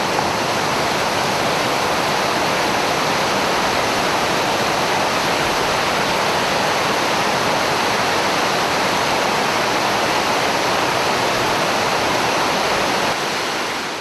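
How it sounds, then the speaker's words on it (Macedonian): The Babuna river in North Macedonia rushes past in a continuous, loud, even roar of flowing water, unbroken and without any voices. "Десно од мене се наоѓа реката Бабуна"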